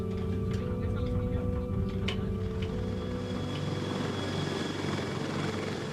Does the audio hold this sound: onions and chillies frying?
no